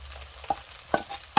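Steak sizzling on a hibachi-style griddle, a constant frying hiss broken by three sharp spatula scrapes and taps, close by and without speech.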